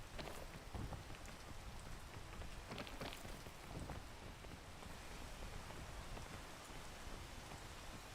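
Steady rain in the video game Peak, a dense, constant hiss of drops hitting surfaces with faint low thunder beneath, alone and at a moderate level.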